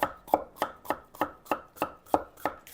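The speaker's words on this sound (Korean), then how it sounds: "이렇게 해서 채를 좀 곱게 치셔야지 돼요." A kitchen knife finely julienning red and yellow bell peppers for white kimchi, giving nine steady chops on a board at an even rhythm, close and crisp, with no talking.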